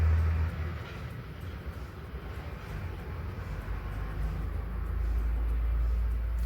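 A vehicle overtakes and passes on a road at night, heard as a steady, loud low rumble that swells slightly toward the end, with no voices.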